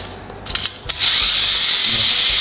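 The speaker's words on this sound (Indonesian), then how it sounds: "Dan di sini untuk suara mesinnya cukup lumayan lembut." A Daxing Spin Viper Mini 4WD toy car's small electric motor starts after a few clicks and then runs as a steady, loud, high-pitched whine close by.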